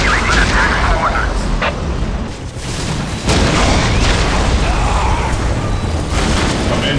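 Whirlwind artillery shelling ork positions in Dawn of War, loud rolling booms and blasts layered over mechanical rumble and battle clatter, continuous and dense throughout.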